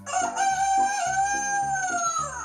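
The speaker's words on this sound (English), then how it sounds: "a rooster" A single drawn-out electronic rooster crow, cock-a-doodle-doo, from an LED bike wheel unit, loud and close, over a pulsing rhythmic backing beat.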